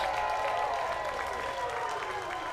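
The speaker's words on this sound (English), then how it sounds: "That's the most applause I've ever heard on a caught foul ball in this stadium." A minor-league baseball stadium crowd applauds and cheers steadily after a fan makes a bare-handed catch of a foul ball in the stands, a dense, sustained wash of clapping.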